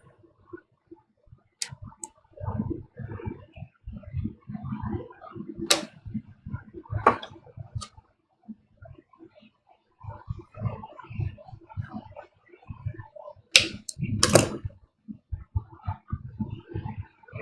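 Leftover flashing is trimmed off plastic armor in close, irregular bursts of clicking and crunching snips separated by short quiet gaps.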